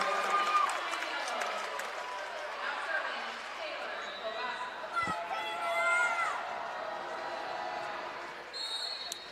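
Gym crowd at a 2022 Iowa girls' state 3A volleyball quarterfinal, Davenport Assumption against Osage, roars steadily and swells with cheers and whistles, a commentator talking over the noise.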